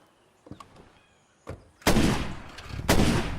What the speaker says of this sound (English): while a shotgun is not the greatest weapon to use from a watchtower, at least it works